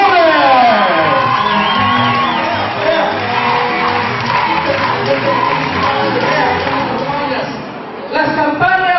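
Loud crowd at a municipal campaign rally in Culiacán shouting, whooping and cheering continuously as the candidate is welcomed, with a dense wash of many voices and brief dips in the noise.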